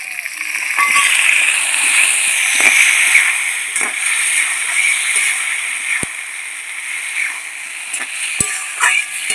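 Water splashes and sizzles into a hot pan of oil holding fried ginger with mustard and poppy seed paste, a steady hissing fry with a few sharp spits and clicks.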